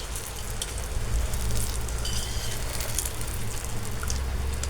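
Eggs frying in hot oil in a pan, a steady loud crackling sizzle with popping spatter throughout and no talking.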